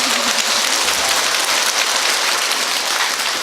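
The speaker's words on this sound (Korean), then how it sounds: "이럴 때 박수도 한번 나와야지" Audience applause during a Buddhist dharma talk, a dense, loud wash of clapping from many hands, continuous and even throughout the brief moment.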